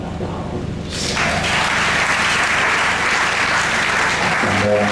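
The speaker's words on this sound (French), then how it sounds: "Acclamons la parole du Seigneur." A church congregation bursts into loud, sustained applause that swells after a brief lead-in and holds steady, dense and close, with a faint voice just before it.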